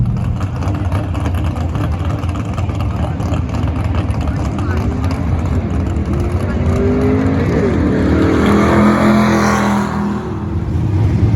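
A modified drag race car launches down the track with a slipping clutch, its engine roaring loud and rising in pitch as it pulls away, under steady wind and road noise.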